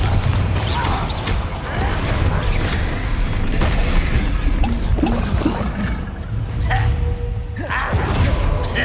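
A Bombarda spell explodes in the Hogwarts Legacy video game amid loud, rumbling combat with repeated booming impacts and creaking, mechanical clatter throughout.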